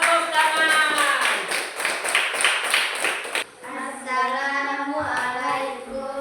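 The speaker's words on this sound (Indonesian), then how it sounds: "Tepuk tangan." A classroom group applauds for about three and a half seconds with dense, fast hand claps, then the clapping stops and voices speak without it.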